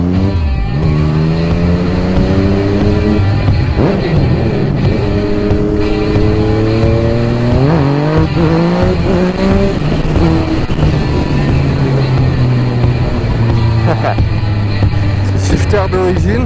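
A 2019 Yamaha MT-09 motorcycle with an Akrapovic exhaust line and factory quickshifter revs loudly and close by. Its engine note climbs and falls in repeated sweeps, with sharp blips between longer pulls.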